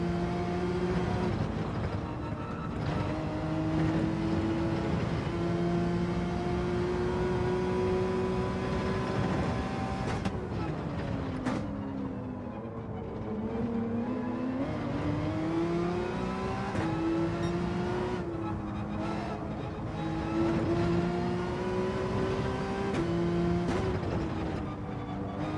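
A Porsche race car in Gran Turismo 7 with a sustained engine drone that rises and falls through gear changes and revs, steady and continuous throughout, with no talking.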